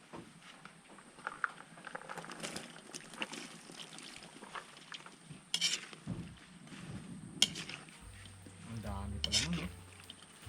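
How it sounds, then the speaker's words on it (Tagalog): Chunks of coconut palm heart drop into coconut milk boiling with ginger and onion in a pot, giving a few splashes and clinks against the pot over a steady bubbling murmur, with a low rumble near the end. "Ngayon ilalagay ko na yung ubod ng nyog"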